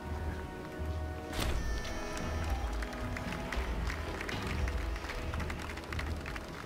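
Crowd applause in the video game Imperator: Rome rises faintly beneath a dense game soundscape of murmuring and clattering, steady and distant throughout.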